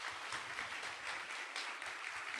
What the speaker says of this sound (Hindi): आओ यीशु के जलाल के लिए जोरदार तालियां